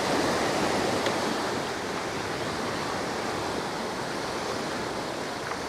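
Heavy ocean surf at Waikiki, Hawaii, rough and high with water kicking up against a wall; a steady, loud, broadband roar of crashing waves fills the whole stretch with no voices.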